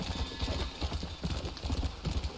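A horse gallops in Red Dead Redemption 2 with a fast, steady clip-clop of hooves, close and continuous over a low rumble.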